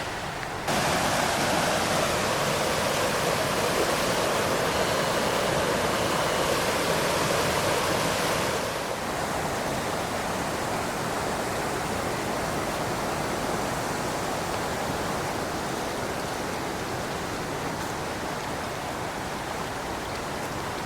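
River water rushing past concrete fish-passage structures along a trail in Shelton, Washington, a steady broad roar that is louder for the first several seconds, then softer and continuous.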